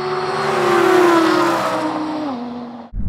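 Audi R8 cars launch in a drag race, engines roaring loud and close with a rising, revving drone that drops in pitch as they pull away, ending in an abrupt cut and a brief thump.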